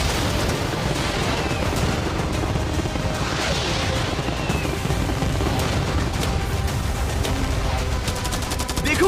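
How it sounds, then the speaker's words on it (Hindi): Cannons, fireworks, arrows and catapults let loose at once in a dense, continuous barrage of booms, cracks and crashes that stays loud for the whole stretch, with no talking. "मैं चाहता हूँ कि तुम कैनन्स, फायरवर्क्स, एरोस, कैटापल्ट्स सब कुछ एक साथ फायर करो।"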